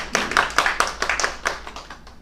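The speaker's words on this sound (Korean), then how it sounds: "큰 박수로 모시겠습니다." A lecture audience gives brief, fairly light applause to welcome the speaker. The clapping is a dense patter of claps that fades near the end.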